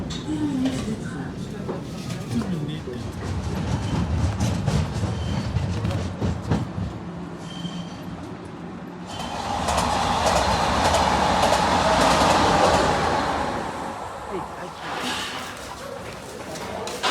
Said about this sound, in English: Here is my RER E train, one of the older double-deck trains, arriving into Bondy